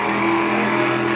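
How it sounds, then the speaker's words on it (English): A jet sprint superboat engine of about 1200 horsepower races at Merri Merri, its exhaust a loud, steady roar with a constant pitch throughout, with no talking. "Listen to the exhaust note, it hardly ever changes, and when you've got something like 1200 horsepower under your right foot"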